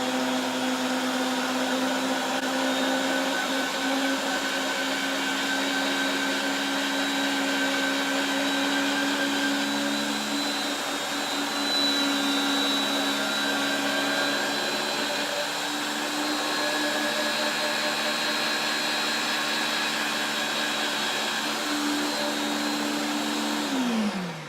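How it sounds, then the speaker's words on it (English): A Ninja Intelli-Sense auto spiralizer runs steadily, feeding and cutting zucchini with a loud, high motor whine that holds for the whole stretch, then winds down abruptly at the end; no one talks. "So let's try spiralizing some of my zucchini and see what happens."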